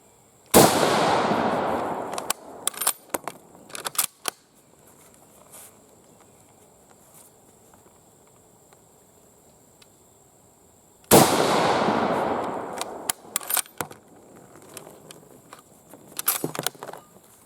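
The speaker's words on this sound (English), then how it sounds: "the bolt on this Carcano is very smooth." Two sharp metallic bursts of clacks and clicks, spaced about ten seconds apart, as the bolt of an Italian M38 Carcano 6.5x52 rifle is worked, with quiet handling between.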